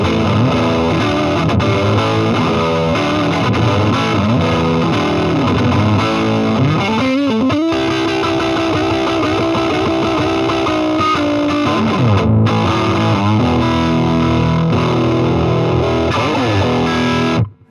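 An electric guitar played through an Orange Rocker combo amp, set with extra bass, scooped mids and reduced treble for a fuzzy tone, gives loud, dense distorted chords and riffs, with a brief break near the middle.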